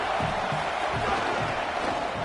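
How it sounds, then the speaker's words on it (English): Home crowd roars in a college football game featuring the Oregon Ducks, a broad steady wash of cheering with a muffled voice over it. "how nice is it to have the home crowd going absolutely bananas?"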